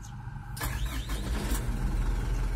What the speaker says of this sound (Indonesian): kita hidupkan ya mesin dari Dutro ini